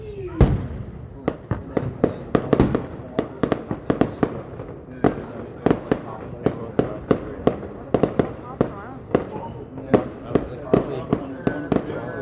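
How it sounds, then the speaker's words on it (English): Special fireworks go off in a rapid, irregular barrage of sharp, loud cracks and bangs, dozens of bursts over twelve seconds, with voices murmuring between the explosions. "Look, special fireworks."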